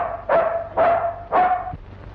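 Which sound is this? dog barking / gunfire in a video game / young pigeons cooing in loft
dog barking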